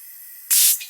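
A sudden short burst of air hisses sharply from a water well's pop-off valve, then fades quickly against a faint background hum.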